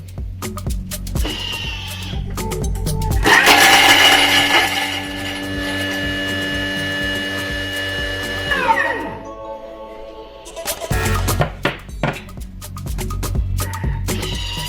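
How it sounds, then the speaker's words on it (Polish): A Thermomix food processor chops at speed 8 for several seconds with a steady high-pitched whir that winds down, amid clattering and clicks before and after. "I teraz rozdrabniamy 5 sekund na obrotach 8"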